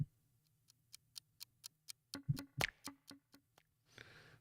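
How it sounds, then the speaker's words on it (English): A ticking clock sound effect track: about a dozen evenly spaced ticks, the later ones heavier and deeper, followed by a short burst of noise at the end, clear and alone. "or I've got the ticking track."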